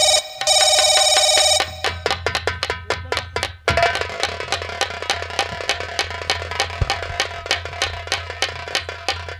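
An old telephone bell rings loudly in a dramatic Hindi comedy scene, a sustained ring at first, then a long run of fast rhythmic chimes and clicks that carry on to the end, with no voices.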